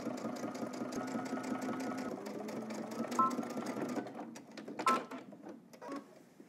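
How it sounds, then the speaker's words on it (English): A sewing machine edge stitches a pocket, a rapid, even mechanical whirr of needle strokes that runs for several seconds, then slows and stops in a few short bursts, close and fairly quiet. "Now let's do 2 rows of stitching. The first one is going to be an edge stitch."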